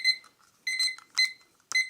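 A kitchen timer beeps during a coffee cupping of Indonesian Sulawesi beans, sounding a few clear, bright electronic chirps in irregular bursts with silence between them.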